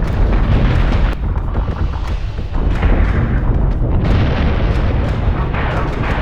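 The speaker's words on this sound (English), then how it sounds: "We're taking sustained fire." Gunfire and explosions rumble continuously in the space combat game Battlestar Galactica Deadlock, a dense barrage of deep booms and sharp bursts with no pause.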